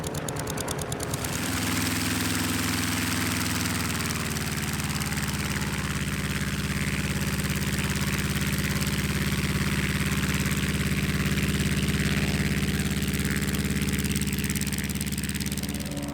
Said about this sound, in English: we turn now to something with rather less power in the form of Bob Grimstad's Fournier RF4D motor glider